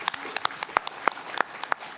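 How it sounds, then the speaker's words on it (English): Scattered, sparse hand claps from a small group, a few sharp individual claps spaced irregularly rather than full applause. "you can clap for that"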